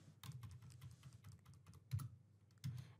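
Typing on a computer keyboard to enter a phone number into a form: a quick, uneven run of soft key clicks close by, with a few heavier taps near the end.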